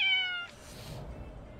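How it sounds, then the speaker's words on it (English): A single short, close cat meow, followed by a soft breathy trailing sound and quiet background. "That's not a that's a cat."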